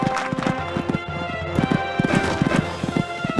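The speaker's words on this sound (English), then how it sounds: "These two are really galloping along now." Horse hooves drum in a quick, rhythmic gallop at a cross-country horse trials event, loud and continuous over a steady background wash, with no talk over them.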